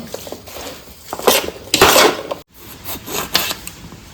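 Chili pickle being stirred with oil in a pot, with a run of close scraping and clinking spoon strokes in uneven bursts, loudest near the middle, and a brief pause before more stirring.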